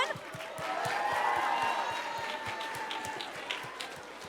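An audience at a summit gives a sustained round of applause, dense steady clapping with some crowd noise, loud and continuous throughout.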